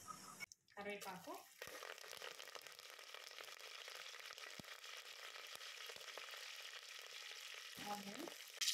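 Mustard seeds, cumin, dried red chillies and curry leaves sizzle in hot oil in a pot while sambar is made. A steady close crackle runs throughout, with a voice talking briefly at the start and near the end.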